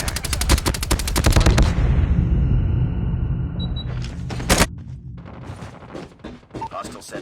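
Rapid automatic gunfire in Call of Duty Mobile, a loud rattling stream of shots lasting nearly two seconds, then a fading tail, another crack and scattered clicks, with game voice callouts around it.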